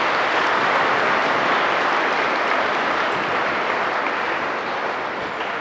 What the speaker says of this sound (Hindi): सो आइडियल एकेडमी और आइडियल इंटरनेशनल के इन प्रयासों के लिए जोरदार तालियां तो बनती है।